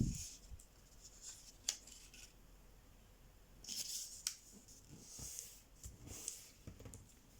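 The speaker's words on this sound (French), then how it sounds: "on va marquer le pli sur les deux diagonales" Quiet paper handling as a 15 cm square of origami paper is creased along both diagonals, with soft scattered rustles and a few sharp crisp swipes of the fold being pressed down, close and faint with no talk.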